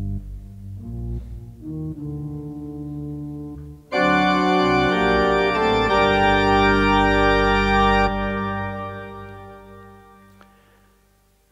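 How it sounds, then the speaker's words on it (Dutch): A Johannes pipe organ played without pedal couplers, sustained chords that swell to a full, loud registration midway, then thin out and fade into the room's reverberation. "Zonder pedaalkoppels klinkt het bijvoorbeeld zo."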